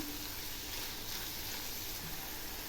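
Chopped small onions sautéing in a pan while making kara paniyaram from idli batter: a steady, faint, low sizzle runs throughout with no talk.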